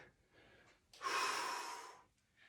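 One long, deep breath drawn in through the nose and mouth during a gentle exercise routine for older adults, close and clear, lasting about a second with a softer breath on either side.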